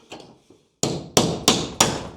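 Pins on a horse trailer are knocked out with a drift and hammer: a couple of light taps, then four loud, sharp metallic blows struck at an even pace, close by.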